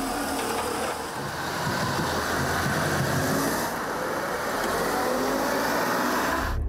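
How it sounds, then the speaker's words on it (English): Fully loaded Renault Twingo accelerating, a steady, droning engine hum with broadband road and cabin noise that holds constant for several seconds before cutting off at the end. "Now the car's full, she wants to test the engine."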